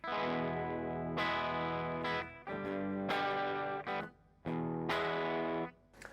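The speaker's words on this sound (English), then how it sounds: "So with all the knobs in the Bluesbreaker set to 12 o'clock, here's what it sounds like." An electric guitar strums a few chords through a Marshall Bluesbreaker Mk1 overdrive pedal with all knobs at 12 o'clock, lightly driven and gritty, with short gaps between phrases.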